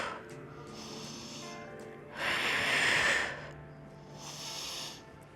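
Breathy exhales during a Pilates swimming exercise on a foam roller: one strong, close rush of air in the middle, then a softer one, over a quiet room.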